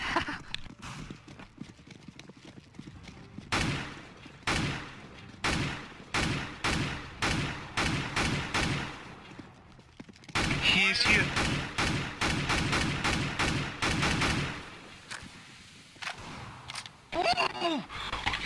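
Rapid bursts of gunfire from the video game CS:GO crack out in quick repeated volleys, some denser than others, with someone talking over parts of the shooting.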